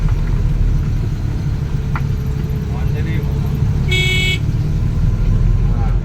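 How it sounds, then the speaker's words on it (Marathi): A car engine runs with a steady low rumble as a learner driver presses the accelerator, with people talking over it and a brief horn-like tone partway through. "दाब एक्सिलेटर गाडी चालायची ना"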